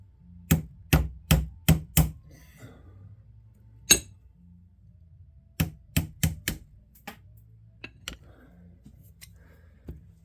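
Plastic rivet on a shoulder cup being whacked out: sharp, hard knocks in quick bursts of four or five, then single strikes, loud and close with silence between, no talk.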